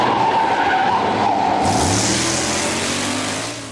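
A drag racing car skids and revs, a loud broadband tire hiss with engine tone giving way to a rising, revving growl midway, sustained and close before easing off at the end.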